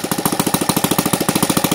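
A new NGH FG-38 four-stroke model engine with CH ignition runs close by, its loud, rapid, even firing pulses making a steady chugging buzz with no voices.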